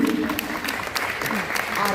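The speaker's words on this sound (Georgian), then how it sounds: "ოვაციები" Audience applause at a preschool musical after children dance the Adjarian folk dance, steady clapping throughout with some voices mixed in.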